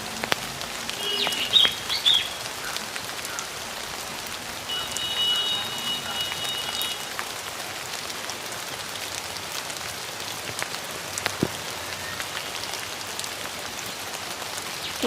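Heavy rain pours steadily on surfaces outdoors on a hot day, a dense continuous patter with a few faint bird chirps and a crow nearby.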